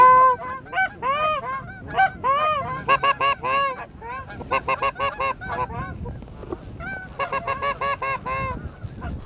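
Geese honk in overlapping bursts, several birds calling near and loud during a goose hunt by a lake, with a brief lull midway before the chorus picks up again.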